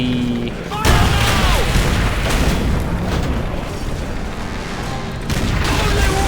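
Booming explosions from Call of Duty: World at War, a sharp blast near the start followed by continuous rumbling gunfire and bursts, with faint speech underneath.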